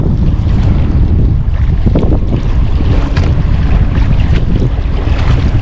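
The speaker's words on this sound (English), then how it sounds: "I am rowing with the wind right now" Strong wind buffets the microphone while a boat is rowed on a small lake, a loud, continuous roaring rush with faint water sounds underneath and no talking.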